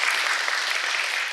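A lecture-hall audience at a criminal psychology talk claps briefly and evenly, a dense steady patter of many hands with no voices over it.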